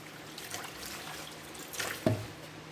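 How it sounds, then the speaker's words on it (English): Water pours into a cooking pot of spinach sauce with salt and goat meat, a short trickling splash lasting about a second before cutting off. "So I'm going to put in water."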